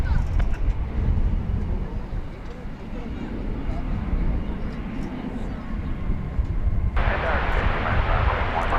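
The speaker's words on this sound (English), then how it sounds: "United 737-800 coming in from Denver." A United Boeing 737-800 airliner landing at DFW airport: a steady low roaring engine rumble throughout, with a broadband rushing surge near the end, heard under loud wind and outdoor noise.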